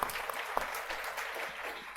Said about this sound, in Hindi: इनके लिए एक बार जोर से ताली होना चाहिए।